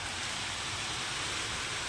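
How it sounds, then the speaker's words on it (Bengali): Heavy rain pours onto a rooftop in a dense, even hiss that stays loud and unbroken throughout, with no voices. "বৃষ্টি কিন্তু বেড়েই চলেছে, কমার কোনো লক্ষণ নেই।"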